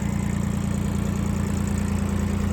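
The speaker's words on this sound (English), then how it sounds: "the tractor's probably scaring her a little bit" A farm tractor engine runs steadily nearby, a loud, continuous low throbbing drone with an even pulsing rhythm and no voices over it.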